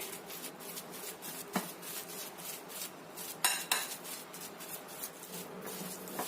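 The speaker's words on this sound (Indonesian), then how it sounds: "Ini kita aduk sampai tercampur rata lagi." A spoon stirring a tofu mixture in a bowl, quick scraping and clinking strokes against the sides with a couple of sharper knocks, steady and close.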